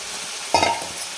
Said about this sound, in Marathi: फक्त 2 मिनिट आपल्याला परतून घ्यायचं